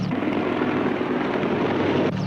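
A steady, loud rotor drone of a helicopter in flight, continuous and close, cutting off abruptly near the end.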